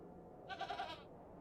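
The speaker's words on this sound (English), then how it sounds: "See, perfectly normal goat." A goat bleats once in the video game The Excavation of Hob's Barrow, a short wavering cry lasting about half a second, clear and fairly close over a quiet background.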